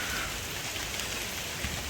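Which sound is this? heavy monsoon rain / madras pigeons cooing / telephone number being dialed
heavy monsoon rain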